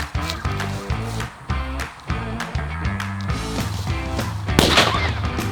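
A gunpowder-loaded New Year firework goes off with sharp popping bursts and a strong crack near the end, amid background noise and voices.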